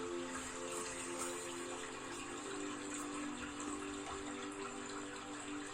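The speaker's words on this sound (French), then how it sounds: "va vous conduire progressivement vers une cascade" Water pours steadily over a cascade in a dense, continuous rushing wash that sounds close and unbroken from start to finish, with no voices.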